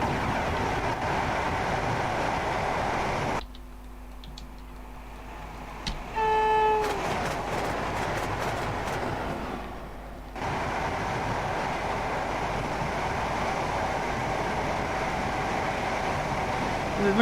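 Class 68 diesel locomotive running in a train simulator game, a steady rumbling engine and rail drone that cuts away for several seconds, during which a short horn-like tone sounds, then the drone resumes and holds to the end.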